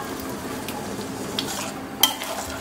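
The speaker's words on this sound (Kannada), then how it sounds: "ನೋಡಿ ಆಗಲೇ ಕುದೀತಾ ಇದೆ ಇದು." Andhra-style bottle gourd dal boiling in a pot makes a steady, close bubbling and sizzling, with one sharp metallic clink partway through.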